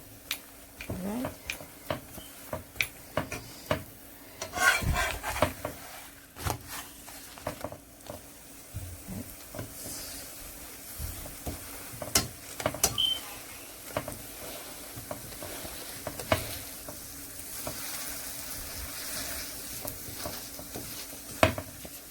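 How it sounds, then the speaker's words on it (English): Spatula scrapes and presses around the edges of a Guyanese oil roti cooking in a pan, giving repeated short taps and scrapes over a low, steady sizzle, close and moderately loud, with no talking. "I'm going to be using the spatula now, pressing down the edges because I want it around the edges cook"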